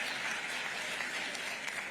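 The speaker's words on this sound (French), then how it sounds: "je vois que les sénateurs et sénatrices applaudissent" Senators applauding in a congress session in Côte d'Ivoire, a sustained, even roar of many hands clapping across a large chamber, steady and moderately loud from start to finish.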